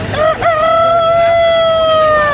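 A rooster crows loudly and close at a busy chicken market at Kaptan Bazar, one long sustained cock-a-doodle-doo following a brief squawk, with other fowl faintly around.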